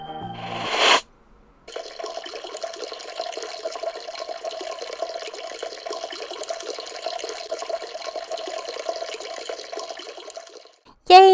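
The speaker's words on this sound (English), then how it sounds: "then I got a flush, like this" A toilet flushing in a home bathroom: a short burst of noise, a pause, then a long steady rush of water refilling the bowl for about nine seconds before a final gurgling surge, with no talking over it.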